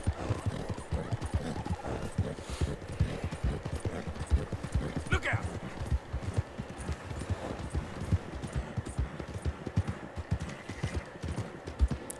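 A wheezing horse plods along in Red Dead Redemption 2, its hooves clopping in a steady rhythm close by, with a brief rasping breath standing out midway; someone talks over much of it.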